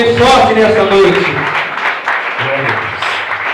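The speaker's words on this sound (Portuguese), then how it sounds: "Vamos receber o pastor com palmas bem fortes nessa noite" An evening church congregation claps strongly to welcome the pastor. Dense applause fills the room while a voice talks over it at the start.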